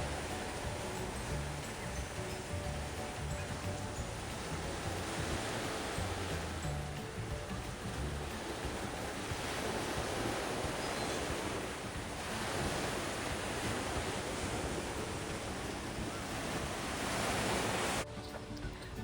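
Ocean surf washing steadily onto the sand at Hung Shing Yeh Beach, a continuous loud wash of breaking waves with some wind rumble, no voices.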